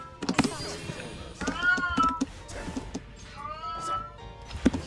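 A noisy house cat meows repeatedly at close range, several rising and falling calls spread across the moment, while someone talks over and between them.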